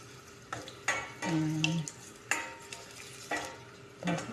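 Onions frying in plenty of cooking oil for pancit, a steady close sizzle punctuated by a few scrapes and knocks of a spatula stirring against the pan.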